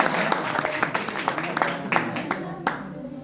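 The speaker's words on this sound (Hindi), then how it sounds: "उनके लिए ताली हो जाएगी।" Audience at a school program claps in a burst of applause, with sharp scattered hand claps rising over a crowd and a voice speaking through it; close and moderately loud.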